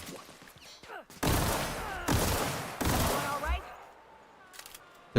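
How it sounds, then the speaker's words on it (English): Bursts of gunfire from a player's gun in the video game The Outer Worlds, loud and close, coming in a few long rapid volleys with short gaps between them. "I hate this gun."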